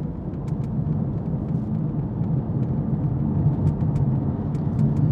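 A car with worn carbon ceramic brake discs slows under braking on the road, a steady loud low rumble of tyres and engine throughout with faint light ticks above it, no talking.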